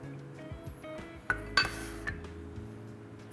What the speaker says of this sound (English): Simply all we need to do is combine it into the pot, all together